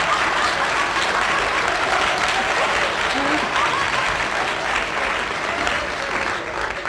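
A studio audience at a BBC radio panel game applauds, dense sustained clapping filling the whole stretch at a steady level, with faint voices beneath.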